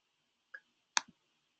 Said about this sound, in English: click Use once you've found one that you like